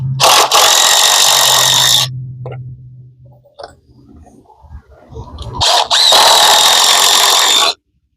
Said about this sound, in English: coming at one end of the board and putting all the screws in